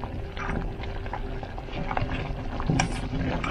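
Egg liquid is stirred into a pot of boiling dough-drop soup, soft continuous bubbling and spoon scraping close by, with no talk over it.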